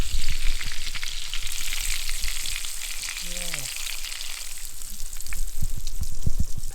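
A sub sandwich frying in au jus at a camp cookout, giving a loud, steady sizzle with crackling bubbles throughout and a brief low tonal sound midway.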